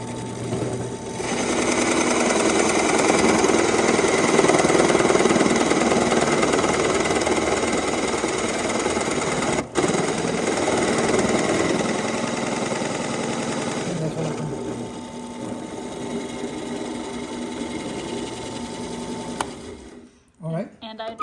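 A drill press runs continuously in a wood shop, a loud steady mechanical whir with rattling that holds for about twenty seconds before cutting off, followed by brief clunks.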